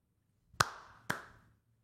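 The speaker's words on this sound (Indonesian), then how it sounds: "Kita tepuk deh." Two sharp hand claps about half a second apart, marking out a simple rhythm pattern while a child's pattern-learning activity is explained, each clap crisp and close with a short ringing tail and quiet between.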